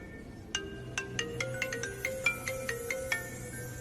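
A phone rings with a quick run of bright, repeating electronic chime notes in a steady rhythm, moderately faint over a low background hum.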